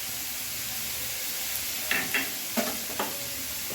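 Ground spices, chilli, ginger and tomato fry in a pan over a low to medium flame with a steady close sizzle, while a spoon scrapes and stirs in a few distinct strokes toward the end.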